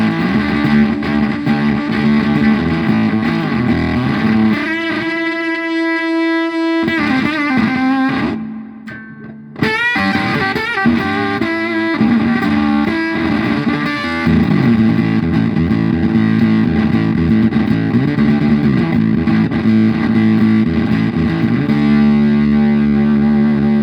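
A Fuzz Face guitar pedal, cranked up, pushes loud, broken, heavily distorted guitar chords. The sound dips briefly near the middle, then comes back at full, saturated volume to the end.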